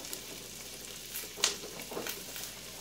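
Chopped onions sizzle in a pan for cornbread dressing, a steady soft hiss with a few light scraping clicks from stirring, fairly quiet and close with no talking.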